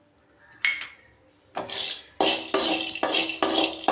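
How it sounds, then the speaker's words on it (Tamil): Metal spatula scraping and clinking in a pan while roasted gram dal and cashews are stirred, a few separate rattling scrapes followed by quicker repeated strokes. "உடச்ச கடலை முந்திரி லைட்டாக சூடான உடனே அவல் ஆட் பண்ணிக்கலாம்."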